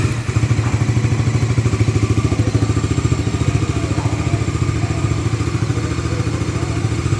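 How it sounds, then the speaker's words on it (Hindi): A 2025 Bajaj Dominar 400 motorcycle engine idles steadily nearby, its exhaust thumping in a rapid, even rhythm with some mechanical clatter. "तो चलिए एक बार बाइक को जो है वो स्टार्ट कर लेते हैं"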